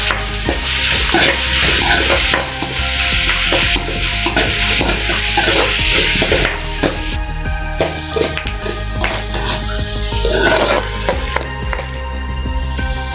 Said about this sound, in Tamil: மிக்ஸ் பண்ணலாம். நல்லா பொன்னிறமாக வர அளவுக்கு நல்லா வதங்கணும் வெங்காயம்.